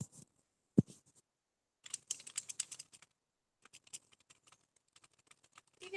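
Typing on a computer keyboard in Microsoft Word 2013 comes as quiet, close bursts of key clicks with pauses between them, plus one sharper thump near the start, and no voices.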